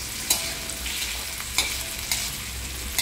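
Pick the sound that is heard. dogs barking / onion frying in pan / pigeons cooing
onion frying in pan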